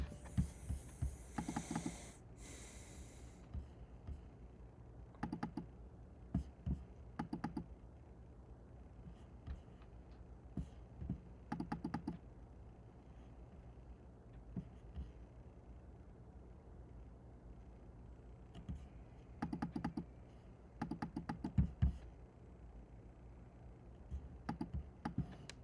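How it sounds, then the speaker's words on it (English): Code being typed on a computer keyboard, quiet clicking keystrokes arriving in scattered bursts with pauses between, close and soft over a faint room hum. "This one is the code we're going to type in."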